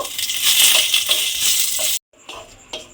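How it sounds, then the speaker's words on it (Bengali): Whole cumin seeds with whole garam masala spluttering in hot oil, a crackling, sizzling burst for about two seconds that cuts off abruptly, then softer intermittent crackles and a few sharp pops. "আর আমি এর মধ্যে দেব অল্প একটু সাদা জিরে। ফোড়ন দিলাম। ফোড়ন দিয়ে ফোড়নটা একটু ভেজে নেব।"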